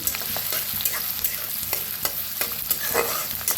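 Food roasts in a pan for chilli fry, a soft steady sizzle under repeated scraping stirs of a spatula, close and fairly quiet with no voices.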